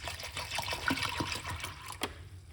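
Pumpkin seeds are rinsed under running water, a continuous splashing and trickling stream with small clicks and knocks throughout.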